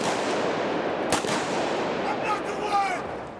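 Blank prop guns test-fired on a Hollywood film set, one sharp shot standing out near the middle over a continuous loud rumble of background noise.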